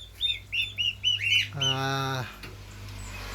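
Hungry turkey chicks in a brooder give a run of high, rapid peeping chirps, close and fairly loud, followed by a longer drawn-out call, with no voices.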